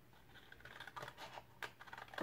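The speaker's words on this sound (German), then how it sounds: "jetzt schneiden wir uns die Linie hier komplett raus" Small household scissors cut through a sheet of paper while a one-sheet mini album is crafted, giving a few quiet, close snips and crinkles at an uneven pace with no talking.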